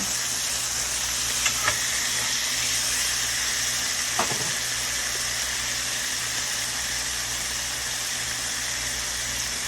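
BBQ pork chops brushed with barbecue sauce sizzle on an outdoor grill, a steady, loud, hissing crackle that never lets up, with a few small clicks and taps from flipping the meat early on.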